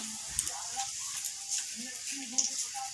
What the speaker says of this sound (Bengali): তেলের মধ্যেই আমি ডিমগুলোকে দিয়ে ভেজে নিচ্ছি